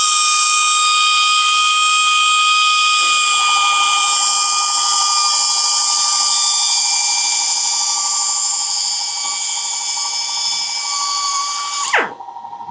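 A cutoff wheel grinds through a hardened grade 12.9 bolt during a Traxxas XRT RC truck rebuild, a loud sustained high-pitched whine that deepens as it bites into the metal, then spins down abruptly near the end.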